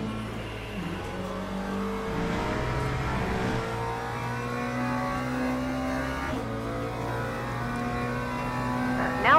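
A car on a racing track with its engine droning steadily near, pitch shifting as it brakes and then picks up speed again, a continuous loud engine note.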